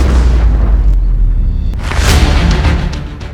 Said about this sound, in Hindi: तभी वहां एक जोरदार धमाका हुआ।